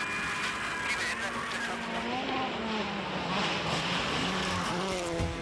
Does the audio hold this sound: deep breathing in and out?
no